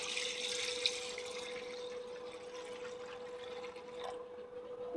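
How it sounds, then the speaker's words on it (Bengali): Water is poured into a whisked kadhi batter in a bowl, a steady soft hissing stream that runs for several seconds and then tapers off, with a faint constant hum in the background. "এবার দিয়ে দেবো জল।"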